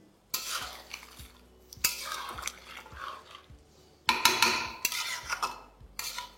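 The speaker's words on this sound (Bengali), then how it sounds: "তারপর এটাকে আপনারা একবার ভালো করে মিশিয়ে নিন।" A spoon stirs and mixes chicken curry in a metal pot, producing several bursts of wet scraping and clinking against the sides, separated by short quiet pauses.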